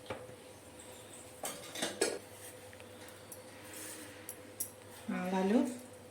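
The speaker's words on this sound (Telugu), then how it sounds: "ఇప్పుడు స్టవ్ వెలిగించేసుకొని బాండి పెట్టుకుని పైనుంచి తిరగమాత వేసేసుకుందామండి" A pan is set on a stove and clanks against metal utensils while oil goes in to temper gongura pulihora pickle, with a few clinks and taps, then a brief sizzle near the end, under light background hum.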